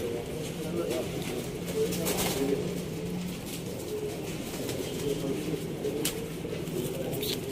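Lakha pigeons cooing in a loft, soft low coos repeating steadily through a continuous murmur of background voices and room noise.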